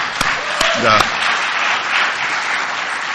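An audience at an Alcoholics Anonymous regional roundup in Kingsport, Tennessee claps steadily in a dense, sustained round of applause with a few louder individual claps and a brief voice near the start.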